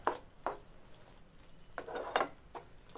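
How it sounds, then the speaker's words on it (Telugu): Grated raw papaya stirred into ghee in a pan for papaya halwa, a few scraping spoon strokes against metal over a faint sizzle, close and fairly quiet. "అదే పాన్లో మనం తురుము పెట్టుకున్న బొప్పాయి కాయని వేసుకొని వేయించుకోవాలి."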